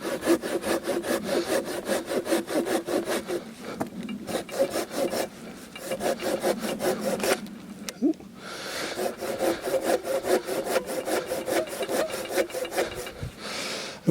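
Hand saw cutting through a log of firewood in steady back-and-forth strokes, close and loud, with a brief pause around the middle before the sawing resumes.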